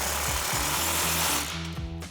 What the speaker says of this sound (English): So we're gonna have our impact and 15mm socket and tighten that down.